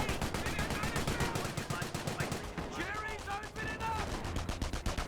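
Rapid rifle and machine-gun fire crackles continuously through a Company of Heroes 1 battle between British and Wehrmacht forces, dense and loud throughout, while a commentator's voice runs over it.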